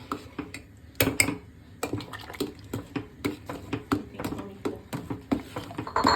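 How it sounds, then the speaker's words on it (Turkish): Yogurt whisked into chicken soup in a pot, giving a steady run of quick light metallic clinks and taps of the whisk against the pot, close and moderately loud with no talking. "Çorbamla yoğurdum gene çırpıyorum."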